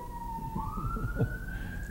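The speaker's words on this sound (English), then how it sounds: "here comes the sirens" A siren wails in a long rising tone, moderately loud, with a vehicle rumbling underneath.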